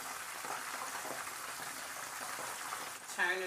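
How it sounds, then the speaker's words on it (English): Wontons fry in hot grease at a rapid boil, making a steady crackling sizzle like rain on a surface, with a brief tonal sound near the end. "this is how they look when they're frying"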